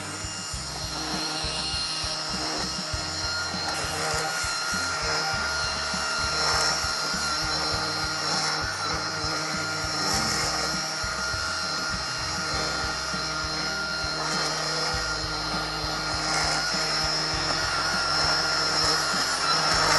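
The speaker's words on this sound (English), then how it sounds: "That's the trimmer in action." A DeWalt 60V Max FlexVolt 17-inch brushless electric trimmer runs and cuts in a garden, giving a continuous loud whirring drone with steady cutting noise throughout and no speech.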